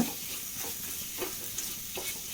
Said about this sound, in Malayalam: അപ്പോൾ അത് നന്നായിട്ടൊന്ന് വഴറ്റി കൊടുക്കാം.